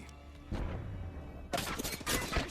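Apex Legends gunfire plays in a game fight: a muffled shot or two, then quick rattling bursts of automatic fire, fairly faint overall.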